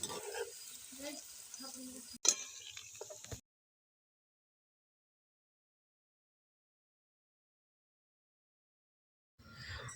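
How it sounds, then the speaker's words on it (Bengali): Potatoes frying in oil for a katla fish curry give a steady crackling sizzle with stirring for about three seconds, then cut to silence before the sizzle briefly returns at the very end. "তো চলো এবার আলুটাকে সুন্দর করে ভেজে নিই"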